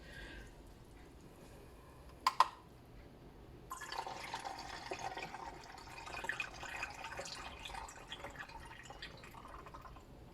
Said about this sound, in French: Et je vais rajouter 200 millilitres d'eau.